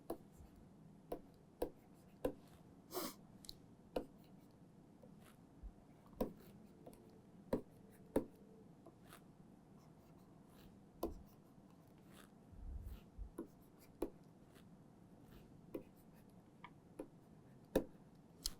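A pen or marker drawing a chemical structure of a 27-membered corand, with sharp irregular taps and short scratchy strokes over a quiet background.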